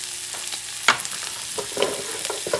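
Onions hit hot oil in a pan after an orange sauce base, giving a steady frying crackle with a sharp clatter near the start and brighter bursts of sizzle later, close and fairly loud, with no talk.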